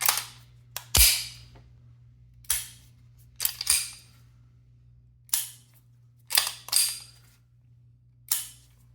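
Dry firing an empty BP9cc handgun, a series of about nine sharp, close trigger and slide clicks spaced irregularly over a steady low background hum, no talking.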